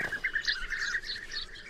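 A small colony of bee-eaters nesting in a sandy bank in Serbia, calling in quick, repeated bright chirps and trills at moderate distance over a quiet background.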